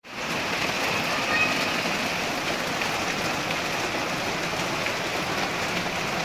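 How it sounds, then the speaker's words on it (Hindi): Steady April rain falls continuously, a dense even hiss of drops on surfaces that holds at the same moderate loudness throughout, with no voices. "बहुत अच्छा साउंड आ रहा है बारिश का"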